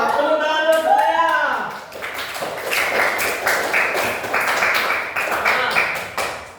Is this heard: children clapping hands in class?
yes